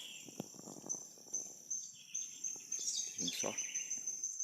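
Faint outdoor birdsong in a natural setting, with a small wren's thin high chirps and a sustained insect-like hum, heard at a distance while someone speaks briefly nearby.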